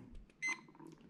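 A Quest Scuba Tector Pro metal detector gives a single short, loud electronic alarm beep. The steady tone lasts about a tenth of a second against quiet background noise.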